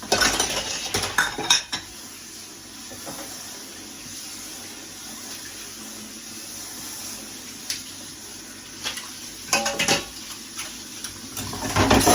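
Dishes and pots being washed in a home kitchen at night, with steady clatter of cookware and cutlery and a faint background of running water, plus louder knocks near the start and end.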